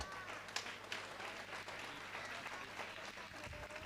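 Steady applause from a crowd at a Jain religious discourse program, soft and distant, lasting a few seconds without letting up.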